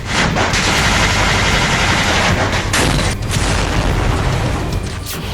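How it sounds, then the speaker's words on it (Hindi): Loud, continuous rumbling of heavy artillery fire and shelling, a dense, unbroken barrage that never lets up. "तोप के गोले गरजने लगे और पूरे यूक्रेन में भीषण गोलाबारी शुरू हो गई"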